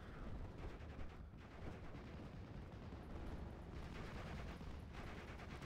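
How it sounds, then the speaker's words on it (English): Mortar explosions pound a battlefield in the WWII video game Steel Division: Normandy 1944, a constant rumbling barrage of overlapping blasts, dense and sustained, heard faintly at low level. "So those mortars are just doing a nutty job here. Just constant explosives."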